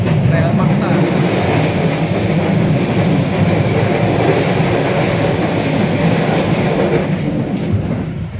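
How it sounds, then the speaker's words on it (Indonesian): Train wheels grind against the guard rail as the carriages take a curve, a loud continuous rumble with rhythmic clatter that holds steady and fades slightly at the end. "suara keras itu ditimbulkan oleh interaksi antara roda kereta dengan rel paksa"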